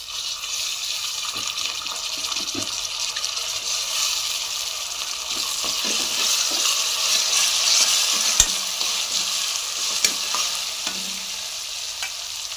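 Garlic, chili and onion sizzle in a hot pan as dal goes in, a dense steady hiss of frying with scattered stirring scrapes and small clinks, close and continuous with no talking.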